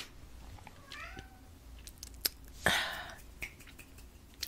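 A pet cat gives a couple of soft, rising meows in a quiet room, followed by faint rustling and a brief bump, all close and low in level.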